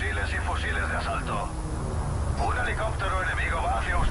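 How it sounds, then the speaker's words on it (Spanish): An enemy helicopter flies in the video game Call of Duty: Modern Warfare 3, a steady loud rotor and engine roar filling the whole stretch, with gunfire and combat voices layered over it. "Un helicóptero enemigo va hacia ustedes."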